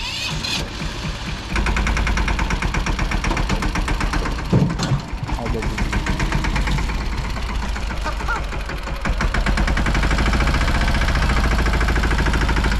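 A tractor engine hauling a full load of water chugs steadily with a loud, low rhythmic knocking that revs up partway through, while people talk over it.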